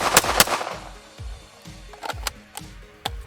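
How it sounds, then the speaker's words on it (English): A pistol fired rapidly on a shooting range, with a quick pair of sharp, loud reports followed by further crisp shots with short ringing tails. "I will pull the trigger 3 times as quickly as I can"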